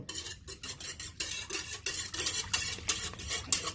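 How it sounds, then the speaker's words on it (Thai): Agar jelly mixture for watermelon jelly being stirred in a pot, quick rhythmic scraping and sloshing strokes repeating close up throughout with no talk. "คนให้วุ้นละลายไม่เกาะตัวนะคะ"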